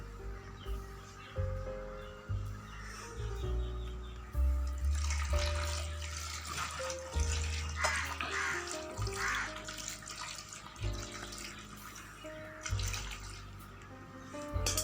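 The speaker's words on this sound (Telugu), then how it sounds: "ఒక చెంబెడు వాటర్ అయితే వేసుకుందాం" Water splashes and gurgles steadily as it pours into a cooking pot of tubers, with its pitch shifting as the level rises, alongside faint background caws.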